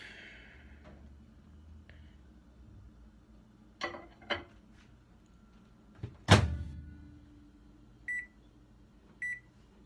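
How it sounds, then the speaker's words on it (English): A microwave oven hums steadily while heating a cheeseburger to melt the cheese, with several thunks and clicks from the door, then two short beeps near the end. No one speaks. "now we're going to microwave it just a little bit for a full minute, just so that cheese really melts on there"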